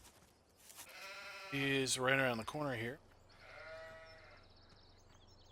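Sheep in the game Farming Simulator 17 give a few close, wavering bleats in the middle, while someone talks quietly before and after them.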